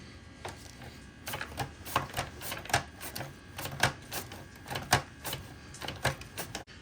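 A knife slices peeled potatoes for scalloped potatoes on a cutting board, producing a steady run of sharp, close clicking chops at an irregular but quick rhythm with no talking.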